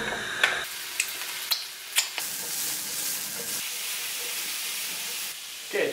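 Spinach, pancetta and egg frittata mixture sizzling in a pan while being stirred. A steady hiss runs throughout, broken by several sharp clicks of a utensil against the pan, close and fairly loud.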